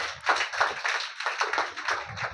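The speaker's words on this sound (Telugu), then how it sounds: "ఒకసారి చప్పట్లు కొట్టి అభినందిద్దామండి" A small group at a church gathering claps their hands in a steady patter of applause, moderately close and without talk.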